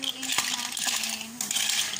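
Clams stirred in a pan with crushed black beans and pepper, metal-on-pan scraping and clinks with a sharp tap early on, close and moderately loud, no talking.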